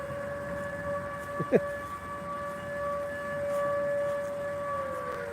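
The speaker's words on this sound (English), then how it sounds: "the sirens go" A steady siren tone holds through the whole stretch, a distant wail over outdoor background noise, with a couple of brief knocks near the start.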